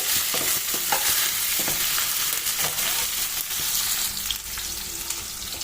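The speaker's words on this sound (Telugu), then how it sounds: "దాని తర్వాత ఉల్లిగడ్డ, దీంతో పాటు కరివేపాకు కూడా వేసేయండి. వేసేసి చిన్నగా ఒక మిక్స్ ఇవ్వండి." Chopped onion and curry leaves fry in hot oil with mustard seeds, a dense close sizzle broken by spatula scrapes and stirring knocks, which settle to a slightly quieter crackle toward the end.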